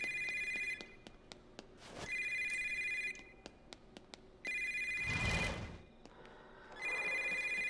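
Payphone ringing in the horror game Yomawari, an electronic bell trilling in three long bursts separated by short gaps, fairly loud and steady, with a brief noisy rustle in between and no talk.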